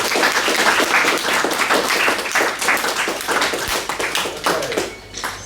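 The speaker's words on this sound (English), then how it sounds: "A round of applause for our magnificent model." A small evening group at a life-painting class applauds their model, with brisk, close clapping from several people that tapers off slightly toward the end.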